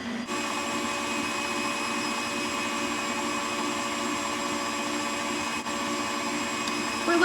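An electric mixer whips egg whites with sugar toward medium peaks, a steady close whirring hum that runs evenly for several seconds with no talking.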